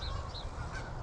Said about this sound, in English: there go the resident geese